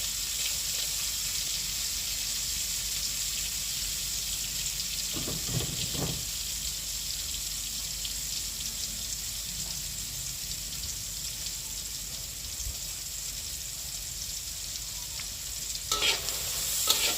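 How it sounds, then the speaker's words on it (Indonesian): Onions sautéing in a frying pan give a steady hiss of sizzling that runs throughout, with occasional scrapes of stirring and a louder clatter near the end. "Kita tumis bawang bombaynya"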